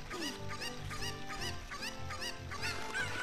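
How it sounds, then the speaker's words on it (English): Chicken clucks from the video game Ocarina of Time sound in repeated short bursts over game music, fairly loud and steady through the clip. "Chicken, up you go."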